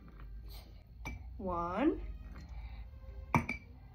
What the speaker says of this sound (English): Now, should we put some ice in?